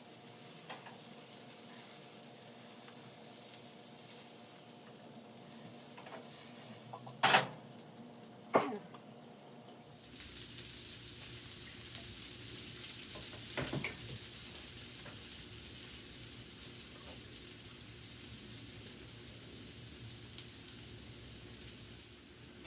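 Potatoes with garlic and rosemary frying in a pan, a steady close sizzle with a couple of sharp knocks as they are flipped, followed by a brighter, hissier sizzle that continues alone.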